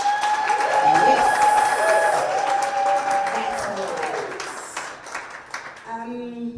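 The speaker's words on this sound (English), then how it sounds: "a huge round of applause to Ms. Nada." Audience at a media innovation summit breaks into a loud round of applause and cheering, the clapping dense at first and gradually thinning out as it fades.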